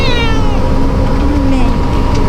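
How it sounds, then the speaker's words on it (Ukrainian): A domestic cat named as a tomcat meows loudly and close, with drawn-out, wavering cries carried over a steady noisy background during an evacuation. "Жінка бере кота Тимофія."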